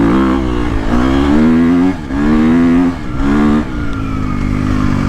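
A 2022.5 KTM 250SXF Factory Edition dirt bike accelerates hard in second gear, its engine pitch climbing in three quick, loud pulls close by, each rising whine briefly dropping between shifts of throttle.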